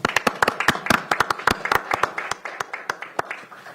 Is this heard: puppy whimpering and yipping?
no